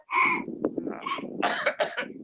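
A person clears their throat forcefully several times in quick succession, harsh and close, like short rasping coughs.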